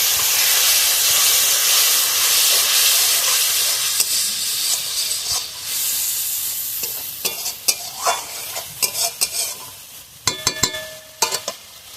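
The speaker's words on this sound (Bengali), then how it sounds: "একটু অল্প করে জল দেবো মশলাটা যাতে না পুড়ে যায়।" Water hits frying spice masala in a hot pan and sets off a loud, steamy hiss. The hiss slowly fades into stirring scrapes and clicks of a spoon against the pan.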